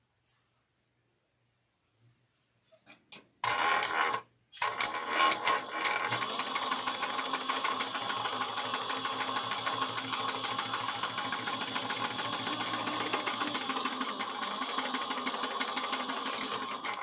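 A sewing machine stitches a 3/8-inch seam down the side of a quilted shoulder bag, starting after a few soft clicks and then running in a fast, even, continuous rhythm at close range.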